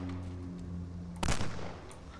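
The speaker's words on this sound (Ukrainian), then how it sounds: "Стріляє як звичайний помп." A Fort-500 carbine shotgun fires once in a video game, a single loud blast cutting through a low humming background, followed by a short decay.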